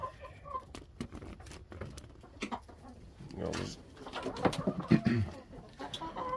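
Hens clucking softly in a chicken coop during egg collection, with low intermittent clucks and rustling, while a person talks over them.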